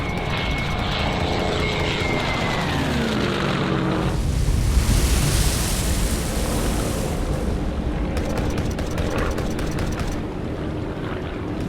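German fighter planes approaching a destroyer at sea, with a loud, droning propeller engine roar whose pitch sweeps downward as the aircraft close in and pass, a broad rushing swell midway, no talk.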